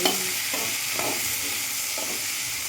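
Tomatoes stirred into a bubbling curry masala for mutton kuzhambu, a close, even sizzling hiss with a few soft scraping strokes of the spoon, no talking.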